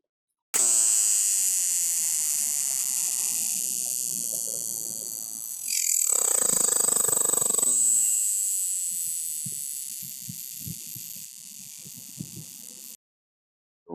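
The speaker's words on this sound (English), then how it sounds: "Here's the loudest insect there is." A loud, continuous insect buzz with a harsh, rasping drone that surges louder midway, steady and close, then cuts off abruptly.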